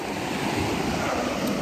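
Ocean waves wash steadily onto a beach with clear water, a continuous broadband roar mixed with wind buffeting the microphone, no voices.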